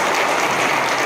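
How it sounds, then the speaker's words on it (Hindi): Students at a hostel gathering applaud with raised hands: a dense, steady wash of many hands clapping together, loud and continuous like rain, with no voices on top. "हाथ उठा करके एक जोरदार तालियां बजाइए इनके लिए।"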